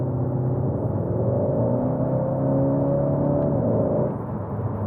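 Inside the cabin of a 2022 Skoda Octavia RS iV, a synthetic engine note drones steadily under acceleration, a low humming roar that swells slightly midway and then eases off, with no talking.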